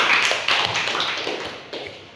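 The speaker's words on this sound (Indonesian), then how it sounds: "beri aplaus kepada Raffi dulu" A classroom group gives a brief round of applause for a student: a dense burst of clapping from many hands, fairly loud, fading slightly over about two seconds.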